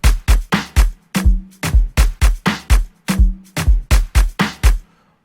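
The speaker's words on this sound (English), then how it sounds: "So then you have the drums sounding like this." An electronic afrohouse drum pattern built in FL Studio punches out in a tight, steady loop of loud kicks and snappy hits, with a short tonal drum ringing under some beats before the loop cuts to silence.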